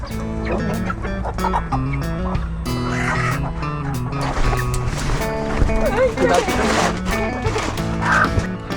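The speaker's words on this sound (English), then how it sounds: "And now it's time to get all these chickens inside their new home." Chickens cluck and squawk over a busy, loud mix of voices and music, with a dog barking now and then.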